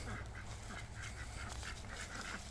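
A flock of khaki Campbell and mallard ducks quacks repeatedly in quick, overlapping bursts, a faint and continuous chatter with no voices over it.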